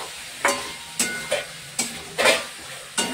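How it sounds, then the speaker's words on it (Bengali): Boiled potatoes stir-fried with spices, onion, garlic and ginger in a pan, with a steady low sizzle broken by about six evenly spaced scraping stirs of the spoon, close and clear with no voices. "মশলার সঙ্গে সিদ্ধ আলুগুলো ভালো করে কষে নেব"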